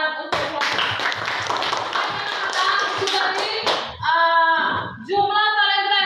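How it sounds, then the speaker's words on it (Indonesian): Classroom applause for a student group, a burst of many hands clapping for several seconds, then voices follow at the end. "Tepuk tangan untuk kelompok."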